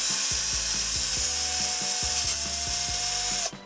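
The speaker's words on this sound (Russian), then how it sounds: "Также возьмем сверло диаметром 5 мм." A power drill with a 5 mm bit bores a hole for a thermistor in a DIY bottom-heater build, a loud steady whine with a regular ratcheting knock underneath, stopping abruptly at the end.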